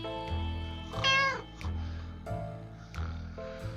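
A cat meows in the survival video game 60 Seconds, one clear rising meow over a low rhythmic snoring-like loop from the game's ambience, fairly quiet overall.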